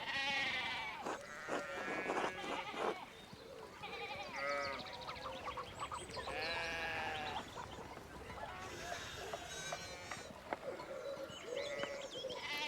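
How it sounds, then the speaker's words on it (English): Sheep bleat repeatedly in the medieval narrative video game Pentiment, several overlapping cries at moderate volume over ambient game sound. "we need to get these sheep under control"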